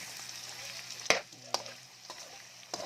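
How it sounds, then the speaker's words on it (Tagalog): Bamboo shoots (labong) with shrimp paste (alamang) sizzle softly in a pan under a steady fry, while a utensil scrapes and knocks against the pan a few times during stirring, with no voices. "So, halu-haluin natin yung ating mga sahog."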